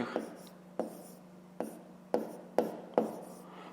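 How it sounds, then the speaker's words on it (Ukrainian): Pen strokes writing fractions by hand in a maths exercise come as about six sharp taps and short scratches on paper, spaced under a second apart over a low steady hum. "давайте запишемо тоді, які можна записати дроби"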